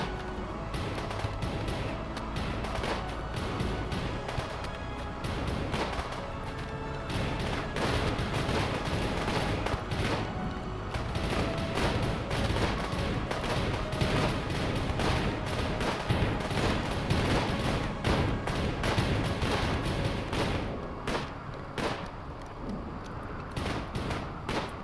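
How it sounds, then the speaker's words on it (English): A long, dense stretch of gunfire from colonists shooting at a zombie boomer in the video game RimWorld, with steady crackling shots and booms that keep going almost without pause. "Firing at the boomer low"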